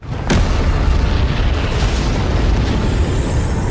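A sudden loud blast erupts, followed by a long, rumbling roar that sustains without fading.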